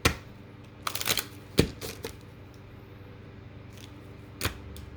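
Tarot cards being shuffled, a few sharp riffling snaps and taps close by, separated by quiet pauses.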